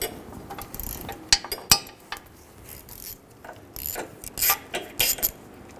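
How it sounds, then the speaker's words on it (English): A ratchet fitted with a 10mm socket clicks in quick bursts while bolts come off the rear ABS sensor harness of a 2003-2008 Honda Pilot, with close, sharp metallic ticks and short pauses between turns. "Using a 10mm socket, we're going to remove the bolts for the ABS harness."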